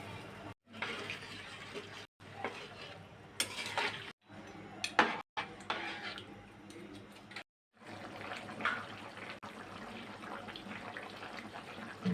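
Water poured or running into a pan while cooking Bengali katla fish and potato curry, a steady splashing wash with brief pauses and clattering of utensils, fairly close.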